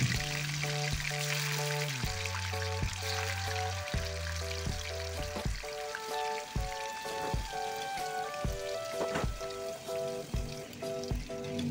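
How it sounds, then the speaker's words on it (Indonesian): Tofu frying in hot oil in a wok for a home-style green balado with coconut milk, a steady crackling sizzle that continues throughout with occasional stirring, close and without talk, while faint background music plays. "Pertama-tama saya goreng dulu tahunya."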